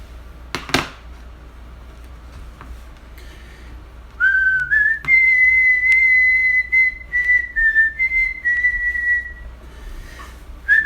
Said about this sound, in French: Tout à fait une improvisation, je sais même pas ce que je siffle en ce moment.